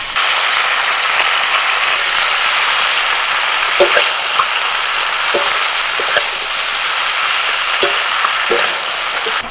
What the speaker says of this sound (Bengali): শাকটা দিয়ে একটু নাড়াচাড়া করে দিয়েছি।